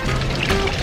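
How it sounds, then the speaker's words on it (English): Water runs steadily from a public drinking fountain in the town centre of Aosta, a close continuous pour and trickle heard alone. "Look how cool the water fountain is."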